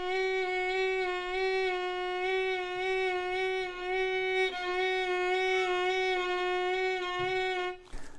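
Violin playing a single sustained note with vibrato pulsing in the rhythm of Twinkle Twinkle Little Star, rich bright harmonics, close and clear, alone for about eight seconds before a short break at the end.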